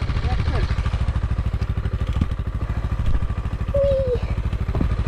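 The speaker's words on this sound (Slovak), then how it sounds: "Naklopni motorku a prejdi na túto stranu, lebo tu je blato." A motorcycle engine idles and putters in rhythmic, close pulses while the bike is tipped and moved across muddy ground, with people talking nearby.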